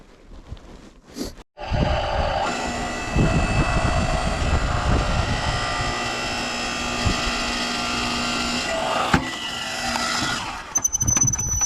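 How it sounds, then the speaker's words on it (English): A wood splitter runs on a 2000 watt inverter while making firewood at a cabin, a steady, droning motor hum that holds level for about ten seconds after starting, close and continuous without talk. "We're running it pretty much to the max with a wood splitter, but works."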